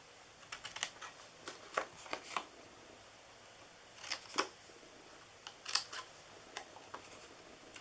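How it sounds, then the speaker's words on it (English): Paper treat box corners being cut off, heard as a scattering of quiet, crisp snips and clicks in short clusters over a faint, hushed background, with no talking. "you are going to be cutting this corner off here"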